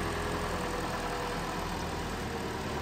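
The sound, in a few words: car engine idling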